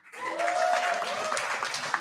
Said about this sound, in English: Another round of applause for Mr. Conley, please.